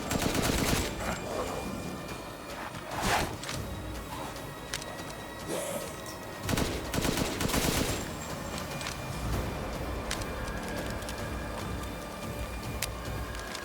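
Pistol shots in Resident Evil Village, scattered sharp cracks fired at uneven intervals among clattering combat noise and a busy, dense game soundscape.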